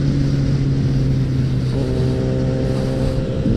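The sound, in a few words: Yamaha MT-03 motorcycle engine revving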